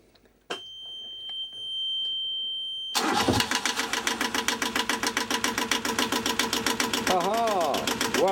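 A boat's diesel engine, just primed through a 5-micron secondary fuel filter, cranks with a loud rhythmic chug and then catches and runs steadily, preceded by a few clicks and a short electronic beep.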